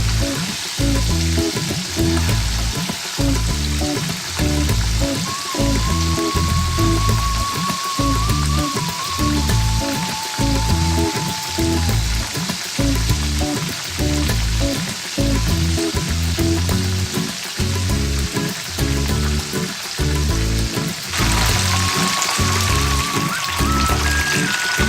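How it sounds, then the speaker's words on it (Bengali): Shrimp frying in hot oil until browned and crisp, a steady loud sizzle with bubbling crackle and occasional stirring, continuous and close with no talking. "মাছগুলোকে বাদামি করে ভেজে নিচ্ছি।"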